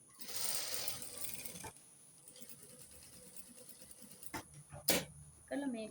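A sewing machine stitches a ladies' trouser in short motorized bursts, close and moderately loud, broken by pauses with a few clicks and handling sounds and a voice briefly speaking.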